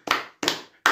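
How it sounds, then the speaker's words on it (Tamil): Claps from people seated on stage at a silambam academy debut ceremony, three crisp, close strikes spaced evenly with short decays and no voices. "மேடையிலே அமர்ந்திருப்பவர்கள் எல்லோரும் கைத்தட்டுகிறார்கள்."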